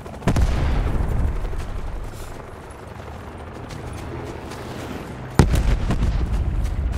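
Explosions and gunfire in the Call of Duty Blackout battle royale, with a heavy boom near the start, a sustained rumble of distant fire, and a second sharp blast near the end.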